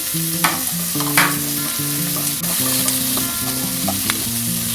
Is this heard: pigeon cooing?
no